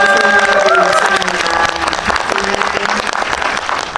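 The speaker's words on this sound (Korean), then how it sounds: "큰 박수로 맞아요" Cinema audience at a Lotte Cinema World Tower screening Q&A for the film Pagwa applauds loudly to welcome a special guest actress, a dense, continuous round of clapping close by with some cheering voices mixed in.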